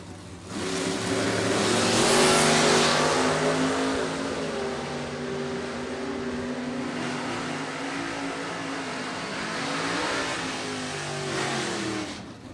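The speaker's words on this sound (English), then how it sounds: "Tyler in the Nova, Brad in a Camaro." A Nova and a Camaro accelerate hard at a door-car drag race, their engines roaring loud and sustained with rising revs, heard without speech.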